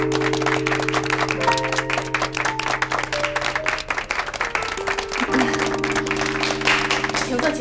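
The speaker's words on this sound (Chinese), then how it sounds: "让我们掌声欢迎一下" Applause from an office gathering welcomes a guest, steady clapping running through the whole stretch over a bed of background music.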